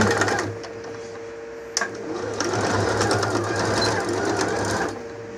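A sewing machine stitches a frasqueira, a cosmetic case, with its presser foot guiding the seam: a loud, steady mechanical whirring that stops briefly with a click partway through, then runs on evenly.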